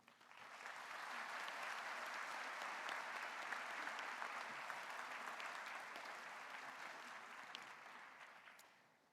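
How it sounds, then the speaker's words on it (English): Large convocation crowd applauding faculty and staff at the George Brown 2019 ceremony, sustained hall-filling clapping that swells in, holds steady and slowly tapers toward the end, somewhat distant. "I would like you to give a loud applause to our faculty and staff who've worked to"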